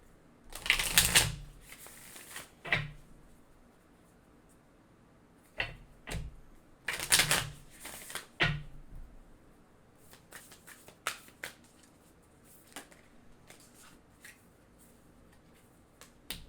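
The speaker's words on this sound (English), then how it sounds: "I'm gonna go ahead and pull some oracle cards" Oracle cards being shuffled and pulled: a few bursts of riffling shuffles, then soft scattered taps and slides as individual cards are drawn and laid down close up in a quiet room.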